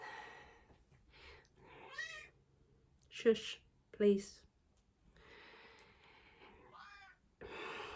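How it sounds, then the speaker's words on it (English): A house cat meows several times close by, short rising and falling cries scattered between quiet moments while a person speaks softly nearby. "cat"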